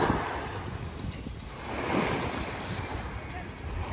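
Sea waves wash onto a beach at Kemer, Turkey, in autumn, a steady close surf rush with wind buffeting the microphone throughout.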